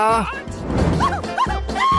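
A dog barks and yips in short bursts close by, with a voice speaking over and between the barks in a lively indoor setting.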